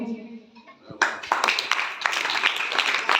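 Applause from a school gathering of guests, teachers and pupils in Mangrol, Junagadh, as a crowd bursts into sustained clapping after a brief spoken intro, dense and steady to the end.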